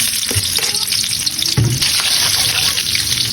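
Garlic and onion sizzle steadily in hot oil in a pan, a loud, continuous frying hiss with occasional stirring scrapes and clinks, close up and without talk.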